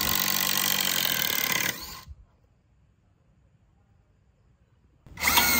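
Boshun 230Nm cordless impact driver running hard and loud as it drives long screws into wood, a dense mechanical whir that stops abruptly, then a quiet pause before it starts again.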